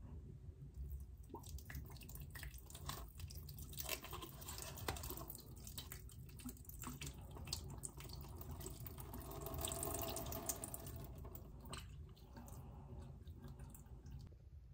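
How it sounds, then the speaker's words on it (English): Freshly repotted houseplants are watered indoors, a soft continuous trickle and splash of water into soil and pots with scattered drips, fairly quiet and steady throughout. "I thought I'd go ahead and water the plants that I just repotted as well"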